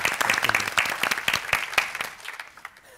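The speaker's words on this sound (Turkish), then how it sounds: "Alkışı bırakamadım." Studio audience and contestants on a Turkish word-game show clap in a brisk burst of applause, close and lively at first, then tapering off quickly into a few scattered claps.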